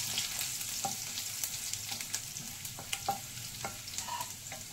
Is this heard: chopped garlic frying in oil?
yes